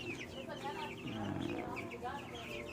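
Free-range white leghorn and black star chickens cluck and chatter close by in a flock, with overlapping calls and a person speaking over them.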